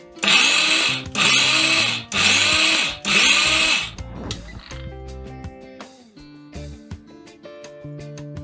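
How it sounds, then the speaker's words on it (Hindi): Kitchen mixer grinder pulverising baked bati for Rajasthani choorma, four loud whirring bursts of about a second each with short pauses between, then the motor stops and clattering, knocking handling sounds follow. "चूरमा के लिए बाटी अच्छे से ग्राइंड हो गई है"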